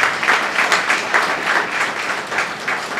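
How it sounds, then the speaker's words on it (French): Applause from an audience honoring the director of the Vallet Foundation at a scholarship award ceremony, dense and steady clapping with no voices above it, close and fairly loud throughout. "Je vous demande d'applaudir ça."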